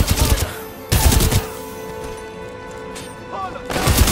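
Heavy automatic gunfire while engaging hostile infantry in Titanfall 2: three loud, booming bursts at the start, middle and end, with a quieter rumbling lull between them.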